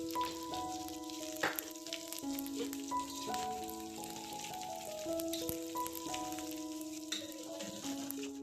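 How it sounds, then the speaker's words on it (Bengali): Dried chillies and chopped onion fry in hot oil with a steady, soft crackling sizzle that runs through the whole stretch, partly under a tuneful melody playing in the background. "এখানে তেল নিয়ে নিলাম শুকনো লঙ্কা আর পেঁয়াজ কুচি এটাকে ভালো করে একটু ফ্রাই করে রেখে দেবো"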